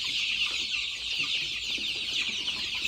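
Desi chicks about 50 to 52 days old cluck and cheep together in a flock, a dense, continuous chatter from several birds at close range.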